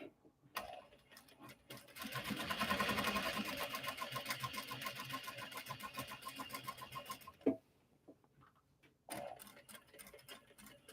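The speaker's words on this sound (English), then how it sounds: "Now I can just sew around at the suggested seam allowance, and life is good." Sewing machine stitching a seam on a clutch wallet, a steady rapid run of needle strokes lasting several seconds, followed by a pause, then a few brief restarts with short stops in between.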